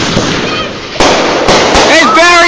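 Fireworks crackle and pop in rapid bursts outdoors, with a loud sharp bang near the middle, while excited voices shout and talk over the noise.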